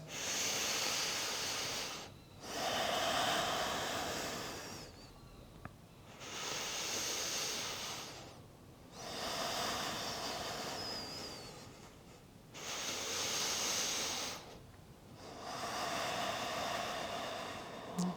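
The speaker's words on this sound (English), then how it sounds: "Breathing deeply here. Three deep breaths here" Slow deep breathing during a yoga session, several long breaths in a steady rhythm of broad airy swells with short gaps between them, close and fairly quiet, with no talking.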